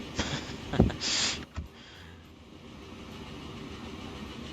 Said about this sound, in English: I mean, look at this train.